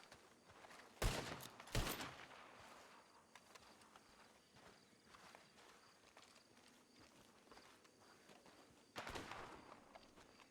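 Gunfire in Red Dead Redemption 2 on the WildRP server: two sharp close shots in quick succession, then quieter distant activity and a third loud shot near the end.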